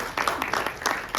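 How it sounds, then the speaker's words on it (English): An audience at a book discussion on the Maratha ruler Madhavrao Peshwa gives modest applause: scattered, uneven hand claps in a room, moderately loud and lasting about a second. "that needs a big applause to him"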